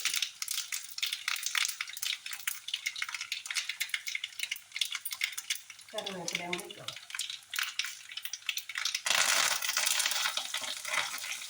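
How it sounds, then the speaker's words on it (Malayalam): Mustard seeds, fenugreek and dried chili frying in hot coconut oil, with a busy crackle of popping seeds throughout that swells into a loud sizzle near the end, and a brief clatter partway. "വെളിച്ചെണ്ണ ചൂടായിട്ടുണ്ട് കേട്ടോ അതിലേക്ക് കടുക് കൊടുത്തിട്ടുണ്ട് ഇലുവ മുളക്"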